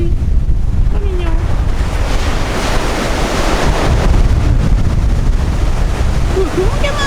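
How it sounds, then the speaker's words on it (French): Strong storm wind roaring steadily at Trestraou beach in Brittany, loud constant buffeting with crashing surf underneath and faint bird calls now and then. "Oui, il y a du vent, Kiki, il y a du vent."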